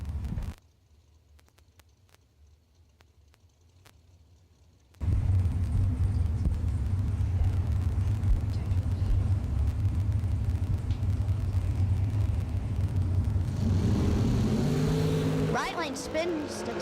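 Drag racing cars at a bracket racing event launch from near silence into a loud, sustained engine roar with rumbling low end, the rising drone of the run carrying for several seconds while a voice talks over it.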